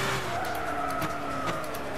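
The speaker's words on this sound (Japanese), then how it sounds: "さあフルブレーキング。" Tires squeal under full braking in the Gran Turismo 6 racing game, over a steady, droning engine tone that holds for a couple of seconds with no talk.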